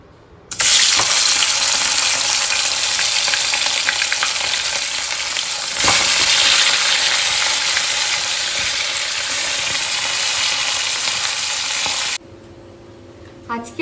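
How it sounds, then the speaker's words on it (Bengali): Fish coated with salt and turmeric fry loudly in a wok, a sharp, steady sizzle that starts abruptly, surges once midway and cuts off near the end. "সদ্য মাছগুলোকে বেছে ধুয়ে নুন হলুদ মানে মেখে কড়াই দেব"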